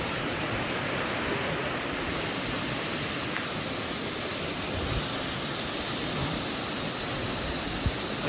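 Cold mountain water of Agos River in Infanta, Quezon rushing steadily over its bed, a dense unbroken roar close by that holds evenly throughout.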